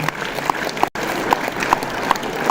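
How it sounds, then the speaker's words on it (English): A large audience in a conference auditorium applauds continuously as dignitaries enter at an IEEE international conference, a dense, loud wash of clapping with one brief gap. "Please give a huge round of applause as our dignitaries are making their way into the auditorium."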